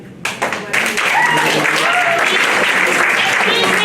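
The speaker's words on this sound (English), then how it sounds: "please hold your applause" Audience at a League of Women Voters candidates forum bursting into loud, sustained applause and clapping that swells and fills the room, with a voice speaking faintly underneath.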